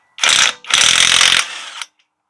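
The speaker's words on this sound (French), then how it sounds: "On va prendre la déboulonneuse." An impact wrench with a 21 mm socket loosening the front wheel nuts of a Lexus IS300h, firing two loud, close hammering bursts, the second longer and fading out as the trigger releases.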